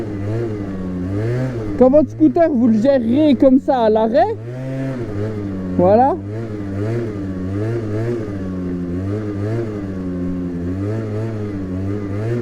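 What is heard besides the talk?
MBK Stunt scooter engine revving, throttle blips during wheelie practice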